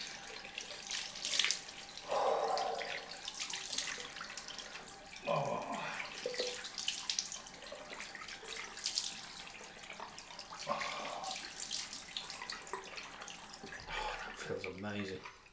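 Tap water runs into a sink while a man rinses his face after a wet shave, heard as bursts of splashing and gushing water between quieter pauses, close and clear.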